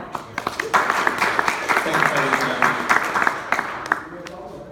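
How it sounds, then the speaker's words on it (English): An audience applauds a presenter at a tech talk on demos, with a wash of clapping and sharper individual claps running beneath voices. "give a big round of applause for Victor"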